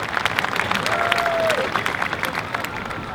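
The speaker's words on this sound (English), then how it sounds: "let's give them a round of applause" Graduation audience at a high school ceremony applauding, a steady wash of many hands clapping with a brief cheer rising partway through, fairly distant and even.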